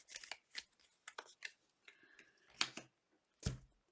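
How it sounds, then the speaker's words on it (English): Tarot cards being shuffled by hand, a series of soft, dry riffling and flicking bursts, close and fairly quiet, with brief pauses between them. "Last shuffle."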